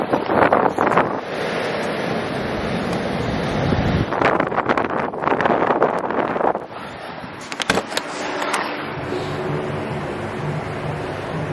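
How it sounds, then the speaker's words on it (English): Strong, cold outdoor wind at minus 20 on a sheep farm roars and buffets the microphone in loud, continuous gusts that ease slightly toward the end. "The wind's like minus 7 billion kilometers an hour."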